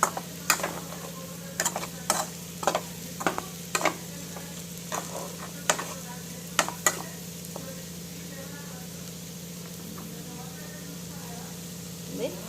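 Prawn masala curry cooking in a pan on low heat, with a faint steady sizzle and sharp scraping clicks from a spoon stirring it at irregular intervals.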